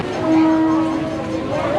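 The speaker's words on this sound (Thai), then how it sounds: "นี่ รถไฟมาแล้ว" A train rumbles close by in Thailand, around Samut Songkhram, with a sustained horn tone, loud and steady throughout the short stretch, with no talking.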